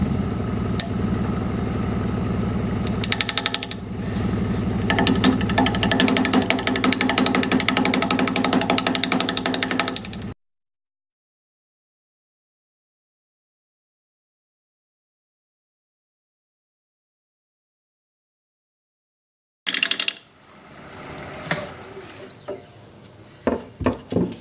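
A wood lathe spins an unbalanced natural-edge bowl at about 700 RPM while a gouge cuts, giving a loud, rough, rhythmic chattering roar that stops abruptly midway, followed by silence and then brief renewed rumbling and knocks.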